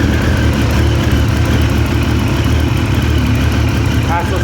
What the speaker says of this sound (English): 97 Triumph Daytona, made out to look like a speed triple, but it's a Triumph Daytona, people. 955cc.